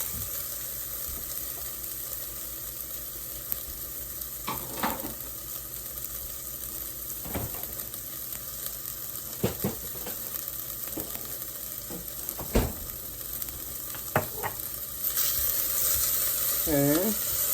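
Beef for a stew sizzles steadily in a pot while a spoon scrapes and stirs it in several sharp strokes, the frying hiss constant and close underneath the clatter.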